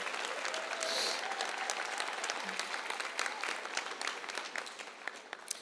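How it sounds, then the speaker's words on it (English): Audience applause at an adult and family education commencement ceremony for the class of 2022: steady, dense clapping from a large seated crowd that sustains evenly throughout, somewhat distant and soft. "So let's give our Career Boost team one last round of applause."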